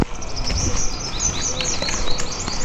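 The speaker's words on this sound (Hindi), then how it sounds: "चिड़ियों की सुबह सुबह चहचहाने की आवाज़ बहुत प्यारी होती है।" Birds chirp in the morning near an old bus depot and market, with bright, repeated short tweets scattered over a busy outdoor background, fairly close and moderately loud.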